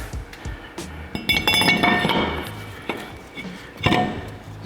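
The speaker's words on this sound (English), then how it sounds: "Go ahead and put on your rotor." Metallic clinks and knocks as a brake rotor from a big brake kit is slid onto the wheel hub, a few sharp close hits scattered over faint background noise.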